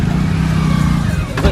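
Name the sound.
Hero Splendor motorcycle pulling out of parking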